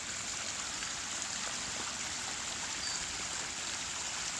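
Water flowing over rocks in a backyard stream, a steady, soft broadband rush and trickle running continuously without a break.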